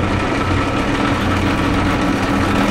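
A metal lathe runs at 210 RPM taking a slow facing cut on 7/8-inch diameter stock, producing a loud, constant mechanical hum and vibration close by, with no speech.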